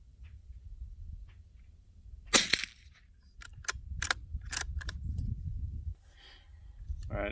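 Shots from a Ruger Precision Rimfire rifle at an outdoor NRL22 practice session, with about five quiet, sharp cracks spaced a second or so apart over low wind rumble, then faint sounds of handling the rifle.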